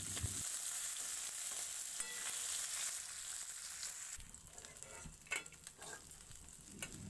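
Fish pieces coated in salt and turmeric sizzle steadily in hot oil in a wok after being turned to the other side, a continuous loud frying hiss with a few spatula scrapes and taps near the end.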